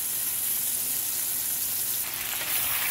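Beef strips sizzle loudly and steadily in a hot pan for takeout-style beef and broccoli, a dense continuous frying hiss with a brief surge near the end and no talking.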